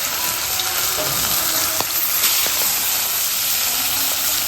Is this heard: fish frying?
yes